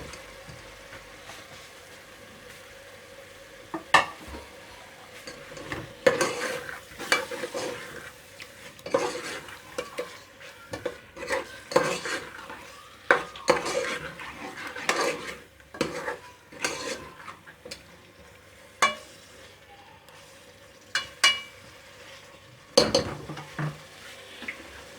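Potatoes added to cooked masala in a pan and stirred, giving repeated close metal spoon scrapes and clanks against the pan over a faint sizzle, uneven in rhythm.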